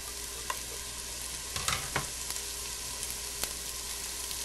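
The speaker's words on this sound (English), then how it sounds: "I'm going to saute the onions and garlic in that." Onions, garlic and carrots sautéing in a soup pot give a steady soft sizzle, with a few louder scraping stirs of a spoon near the middle and a light tap later.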